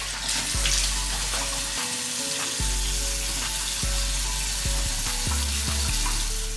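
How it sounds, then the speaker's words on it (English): Tap water runs steadily into a bathroom sink during face washing, with a continuous close rush and splashing broken by brief interruptions as hands move through the stream. "Let's wash our face."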